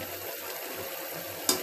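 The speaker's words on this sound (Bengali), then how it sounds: "তো আমি নেড়ে দিচ্ছি" Bottle gourd and fish curry stirred in a pot, a soft low simmering bubble with faint scraping, ending in a brief sharp clink of the spoon against the pot.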